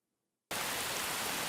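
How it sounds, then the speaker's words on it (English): Rainfall in the visual novel Dies irae, a broad, steady hiss that cuts in abruptly after half a second of silence and then holds evenly. "Well, it looked like it began to rain at some point."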